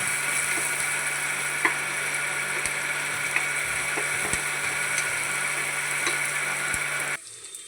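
Sliced onions and green chillies sauté in a pan for a chicken curry, giving a steady, continuous close sizzle with occasional faint clicks of a spatula and no talking.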